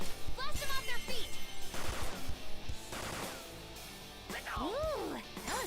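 Gunfire in the Persona 5 Royal video game: several sharp shot bursts in the first few seconds, set against game music and voiced character lines, with a character's voice rising and falling near the end.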